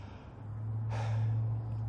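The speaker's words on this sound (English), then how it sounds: "I take a deep breath" One deep breath, a single sharp intake of air close to the microphone over a steady low hum.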